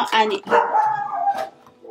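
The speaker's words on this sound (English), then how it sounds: "Excuse the dogs." A dog barks a few times close by, sharp yips mixed with a person speaking at the same moment.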